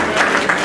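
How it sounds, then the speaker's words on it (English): A short burst of audience applause for an honoree at a gathering: dense, steady clapping from a crowd that lasts under a second. "So we give a round of applause for William King, Salem, New Hampshire"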